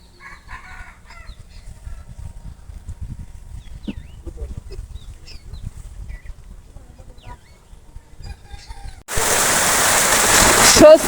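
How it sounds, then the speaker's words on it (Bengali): Rain suddenly begins to pour onto a rural home, a loud, steady broadband hiss that bursts in after a long quiet stretch of faint yard sounds and distant rooster crowing, then continues to the end. "স্বস্তির বৃষ্টি হইতেছে।"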